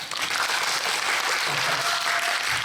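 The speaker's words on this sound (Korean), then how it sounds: "박수 한번 주시죠" A theatre audience applauds during a special stage greeting after a performance of the musical Dorian Gray, with dense, steady clapping filling the whole clip at close, even loudness.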